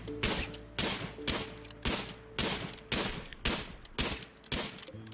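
Gunfire in the RimWorld video game during a hunt: a rhythmic series of sharp shots repeating roughly every half second, each with a short decaying tail, loud and without talk.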